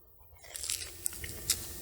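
A few crisp, quiet crunches as someone bites into a vanilla Dutch baby popover, close up with no talking.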